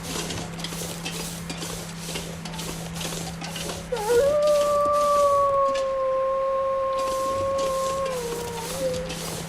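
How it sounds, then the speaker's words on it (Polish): A wolf in the survival video game The Long Dark lets out a long, clear howl partway through, holding a steady drawn-out tone for several seconds before trailing off, over a low constant hum and faint ambient game noise. "wilk tam łazi."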